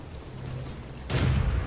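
A single heavy tank cannon blast in World of Tanks, from an M24 Chaffee battle, booms out over a low rumbling engine drone, sudden and loud, then its roar lingers to the end.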